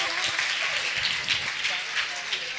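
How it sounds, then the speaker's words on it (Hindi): An audience at a Hindi religious discourse during the Daslakshan festival claps in a soft, somewhat distant patter, with a voice speaking faintly over it. "तालियां बजाओ"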